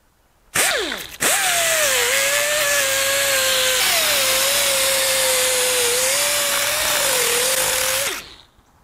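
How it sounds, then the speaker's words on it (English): A power drill fitted with a scuffing bit roughs up a BMW E34 sedan door panel; after a brief start and stop it whines steadily and loudly for about seven seconds, its pitch dipping slightly under load, then winds down. "So I replaced the bit in this to give it a little more grab"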